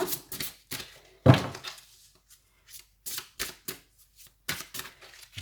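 An oracle card drawn from a deck, heard as a series of soft, close papery flicks and light thumps, spaced irregularly with quiet gaps between them.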